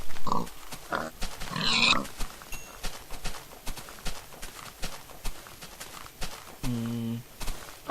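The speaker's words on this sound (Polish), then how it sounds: "Są świnie, jest zabawa." Pigs in the Minecraft video game grunt and oink in short bursts alongside rhythmic clopping footsteps, ending with one louder, drawn-out pig squeal, while a player speaks Polish over the sounds.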